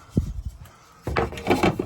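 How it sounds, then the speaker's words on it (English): A bathroom door on a boat, binding at the top, gives a couple of soft knocks and then a rough, close scraping rub that lasts about a second. "I need to trim a little bit off the top of the bathroom door. As you can see, it's scraping there."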